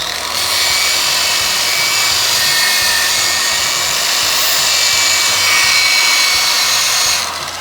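A power sander fitted with 80 to 220 grit sandpaper runs at a high speed, giving a loud, steady, close whine and hiss that holds evenly for several seconds before cutting off.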